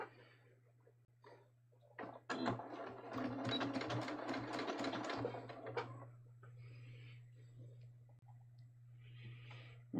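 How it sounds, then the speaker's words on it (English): Sewing machine stitching a front pocket seam, a steady mechanical run of needle strokes lasting a few seconds amid quieter handling sounds, with a constant low hum throughout. "I'm just going to sew this."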